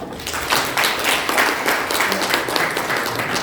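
An audience applauds after a lecture at a Korean college industry-academia council event, steady broadband clapping that swells at half a second and holds evenly throughout.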